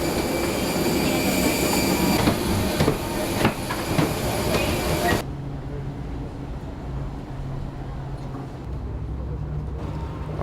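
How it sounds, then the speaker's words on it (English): A Naha monorail train runs toward the airport in Okinawa, heard from inside as a steady rolling rumble with faint high whine, then the noise drops sharply halfway through to a quieter hum, as if the car slows. "when we took the monorail to the airport"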